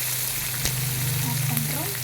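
Chopped onions fry and sizzle in a pan for sivappu aval, a steady close crackle with a low hum beneath and a few faint clinks, no talk.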